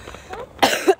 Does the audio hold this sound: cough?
yes